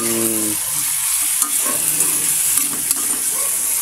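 Shrimp fry in a pan while being stirred, giving a loud, steady sizzle with scraping stir sounds running throughout.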